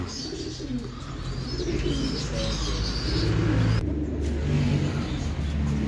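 Trained breeder hen pigeon cooing in low repeated calls, mixed with outdoor noise and a passing car revving nearby.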